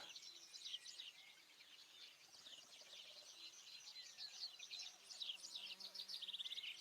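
Ambient birdsong plays as background for a Fantasy Grounds Pathfinder 2 tabletop session: many small birds chirp and tweet continuously at a soft, steady level, with faint insect-like buzzing beneath.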